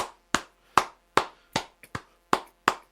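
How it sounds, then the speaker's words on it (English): About eight crisp, isolated hand claps in a quiet radio studio, close and evenly spaced, with one softer clap near the end of the run. "I like giving you a few claps afterwards."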